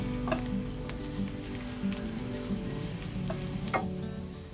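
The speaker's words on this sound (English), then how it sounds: "Lastly, stir fry everything. Add oil and chopped garlic." Chopped garlic sizzling in hot oil in a pan for a Thai vegetable stir fry, a steady close crackle with small pops and a faint low hum underneath, and no talk.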